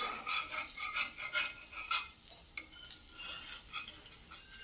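A semolina and gram flour breakfast snack roasting in a pan is turned over with a spatula, producing a soft sizzle under a run of rhythmic scraping and clinking strokes, close and fairly quiet.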